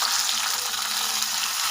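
Mustard seeds, dried red chillies and curry leaves frying in hot oil, a dense continuous sizzle heard close and loud with no talking.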